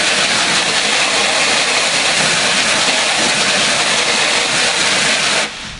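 A pressure washer blasts emulsion out of a screen print stencil with a fine nozzle, a loud, dense, continuous spray hiss that fills the clip and eases off only at the very end.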